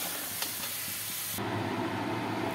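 Potatoes browning in hot oil in a home kitchen, giving a steady close sizzle and hiss that thickens and grows louder partway through, with no talking.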